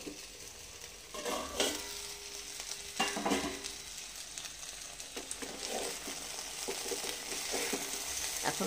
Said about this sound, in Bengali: এইভাবে ঢ্যাঁড়সটাকে ভেজে নেব।